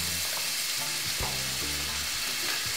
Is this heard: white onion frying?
yes